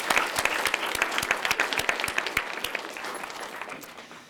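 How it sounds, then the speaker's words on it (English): Audience applause fills a hall at an English department awards night, a steady wash of many hands clapping at moderate distance, with sharper individual claps standing out before it thins slightly toward the end. "So let's give Kay a hand of applause."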